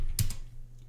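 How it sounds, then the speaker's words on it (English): A couple of quick keystrokes on a computer keyboard while a password is entered, two close sharp clicks early on and then near silence. "we type in our password"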